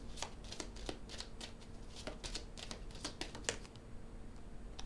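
Tarot cards slide and flick out of a deck in a string of quick, papery riffling snaps, close and soft over a steady background hiss, with no talking.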